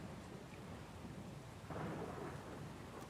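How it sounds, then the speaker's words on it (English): Thunder crack with steady rain in the video game Pillars of Eternity II: Deadfire, a sudden rumbling burst rising out of a constant rain hiss, with no talking. "That crack of lightning was really loud."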